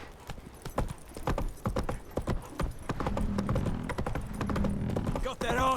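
Video game horses: hooves clip-clop on hard ground in a quick irregular rhythm, with horses moving close by and voices speaking over them; a short neigh near the end.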